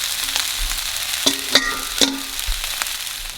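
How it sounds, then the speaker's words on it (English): Fried shrimp being stirred into onions and jalapenos in a pan, a soft background sizzle broken by a few sharp scraping and clinking strokes of a utensil against the pan, close and clear, no voices. "I'm gonna turn off the heat, and we're gonna add the fried shrimp straight into it."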